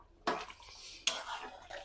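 Green chilies go into a pot of beef curry, two sharp metal spoon clinks on the pot followed by soft stirring and light scraping, close and quiet.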